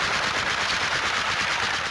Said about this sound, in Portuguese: Um disparo.